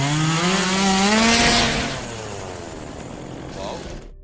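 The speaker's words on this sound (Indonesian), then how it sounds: "Ia kemudian melihat sebuah gergaji mesin di dekatnya, dan Clara langsung mengambilnya untuk melaw" A chainsaw in a zombie film runs loud and close, its whining engine pitch dropping as it revs down, then idling lower before cutting off.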